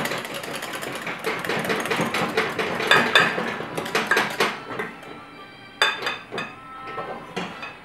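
Butter being quickly stirred into a sauce in a pan for Dover sole: busy, continuous clinking and scraping of a utensil against metal, close and loud, with a few sharper knocks near the end.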